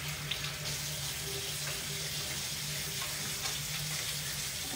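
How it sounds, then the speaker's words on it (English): Hands washed under a running kitchen tap while cooking chicken pesto tagliatelle, a steady close hiss of flowing water with soft splashing changes and faint clinks, no voices. "Now I will thoroughly wash my hands"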